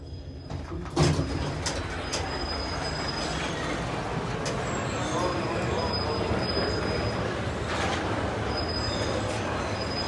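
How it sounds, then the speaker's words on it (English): A dingy Thyssen hydraulic elevator descending at the Moncloa interchange in the Madrid metro, a steady low mechanical hum and rumble with a thump near the start and faint high tones above. "Ascensor bajando."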